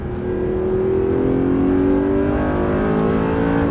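An Audi R8 4.2 accelerates hard on a race track, its loud, close engine climbing steadily in pitch through a sustained rev.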